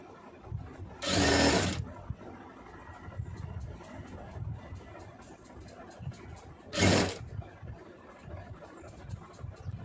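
A sewing machine stitches down a folded fabric hem in a close, low, rattling whirr of rapid needle strokes, with two louder rushing bursts partway through.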